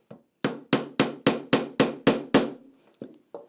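Hammer driving tacks into a carpet tack frame, about nine sharp, evenly spaced close blows in a steady rhythm, then a couple of lighter taps.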